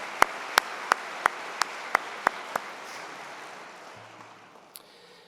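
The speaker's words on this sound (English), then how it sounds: "Let's keep that applause going." Applause from a large audience at a university convocation ceremony, a steady wash of clapping with sharp, evenly spaced rhythmic claps on top that stop midway while the general clapping fades out gradually.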